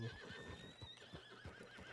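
A horse whinnies loudly and close in a Western video game set in WildRP, its high wavering neigh running through most of the moment, with soft hoof clops and shuffling beneath.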